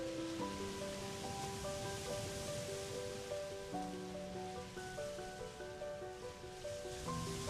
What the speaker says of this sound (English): You will feel the absolute isolation as you stand amid the roar of violent waves and cold winds cutting through your skin.